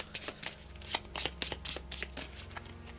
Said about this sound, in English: I'm once again going to shuffle Titanium Muscles in.